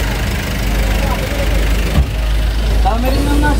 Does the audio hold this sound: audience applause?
no